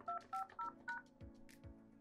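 Touch-tone keypad beeps entered into a 3CX phone system voicemail prompt: four quick dual-tone presses in a row, then a couple of soft clicks, clean and close.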